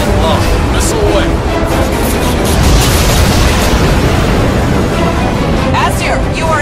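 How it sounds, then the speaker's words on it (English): A missile launches and strikes its target in the first-person shooter Crysis 2, a loud sustained roar of blast and debris with rumbling bursts layered over dense combat noise, steady for several seconds. "Target locked. Missile away."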